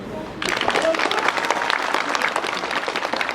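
A school audience bursts into applause for a returning teacher, the clapping starting abruptly after a short quiet moment and continuing dense and steady, with some voices mixed in.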